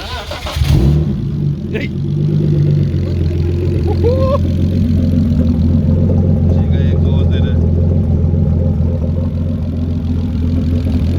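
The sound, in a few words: car engine revving, 3 or 2.8 liter turbo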